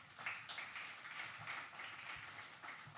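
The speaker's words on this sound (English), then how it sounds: "Please give all our speakers a round of applause." Audience applause at the close of an opening ceremony session, steady clapping from a crowd held at a moderate, even level throughout, fairly distant and without voices.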